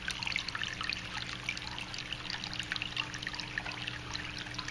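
Water trickles and burbles steadily over the rocks of a hand-sculpted tabletop fountain, a close, continuous gentle flow with small splashy details and no talking.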